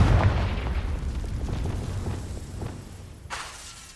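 Confringo fire spell blast in the video game Hogwarts Legacy: a booming explosion at the start that rumbles and fades over a few seconds, followed by a smaller sharp burst near the end.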